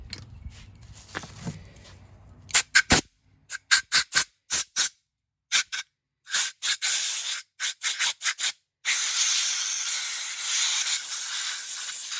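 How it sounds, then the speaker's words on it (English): Compressed air from an air hose blows out a 6L80 transmission part during a thermal bypass valve upgrade, in a string of sharp, loud hissing bursts of varied length that end in one long continuous blast. "Okay, let's get the air hose."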